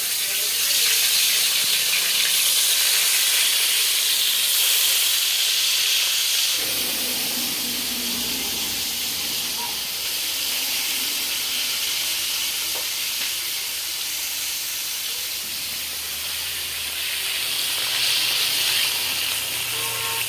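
Pieces of rohu fish fry in hot oil in a kadai, producing a loud, continuous crackling sizzle and hiss close by that shifts partway through and keeps bubbling steadily, with no talk.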